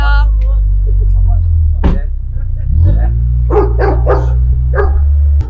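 Several dogs bark in short bursts near a parked Eurocity van being converted into a camper, sharp repeated yelps over a loud low engine-like drone, with people talking nearby.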